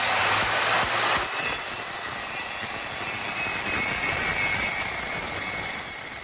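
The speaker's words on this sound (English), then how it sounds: "you'll be seeing us both ripping and cross-cutting using the table saw" A table saw fitted with a combination blade cuts through plywood, giving a loud, sustained whining roar that eases slightly after the first second and then holds steady to the end, with no talking.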